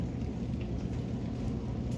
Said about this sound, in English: it's drizzling, so I'm going to wrap up now guys, because I don't want to get too beat up with this rain here